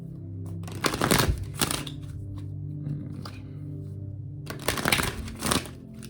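Oracle cards riffled and shuffled in two bursts close by, with softer handling noises between them.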